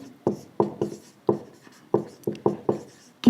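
A pen writing on paper while working a Class 10 trigonometry maths solution, about ten short crisp scratching strokes in an uneven rhythm, close and clear, with no voice over them.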